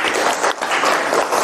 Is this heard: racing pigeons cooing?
no